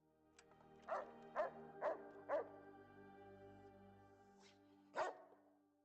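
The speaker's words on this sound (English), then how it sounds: "Dogs." Boston Terrifier robot dogs in Fallout: New Vegas bark in a series of four evenly spaced loud yaps, a faint distant one, then a final bark, with tonal electronic hum beneath.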